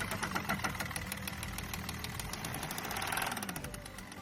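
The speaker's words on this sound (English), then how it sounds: "they think their engine sounds too much like a truck" A customer's car engine idles with a heavy, truck-like rumble and rapid ticking knock, steady and close throughout with a slight swell near the end.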